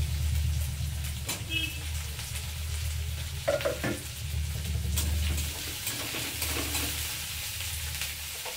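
Chopped tomatoes sizzle and fry steadily in a hot pan, a continuous close crackle with occasional stirring clatter and scrapes, no voices over it.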